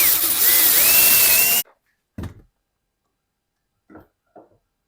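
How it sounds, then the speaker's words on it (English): A power drill bores out a washer held for a rivet repair on cycling shoes, a loud steady whine with rising and falling tones lasting over a second, then stopping abruptly, followed by a few brief knocks and clatters. "Now I'm going to drill out my washer."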